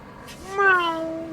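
A voice imitates a cat with a single drawn-out, rising and falling meow, close and clear, while playing a Roadcraft road-building game.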